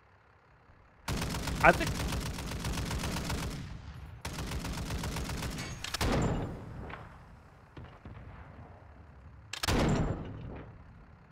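Bursts of automatic gunfire in Call of Duty: Modern Warfare II, long sustained rattling volleys followed by a few shorter blasts, loud and close, with a voice speaking briefly over the shooting.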